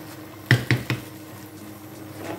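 A spoon stirs Ogbono soup in a pot, making three quick clinks and scrapes against the pot in succession, close and fairly soft, over a quiet kitchen background.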